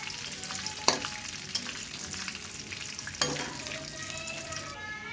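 Food fries in mustard oil for crispy snacks, a steady close sizzle broken by a few sharp clinks and scrapes of a utensil against the pan.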